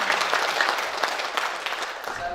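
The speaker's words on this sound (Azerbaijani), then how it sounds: "alqışlayaq xalqı." Indoor audience applauding at a memorial gathering, a dense steady wash of many hands clapping close by for a couple of seconds.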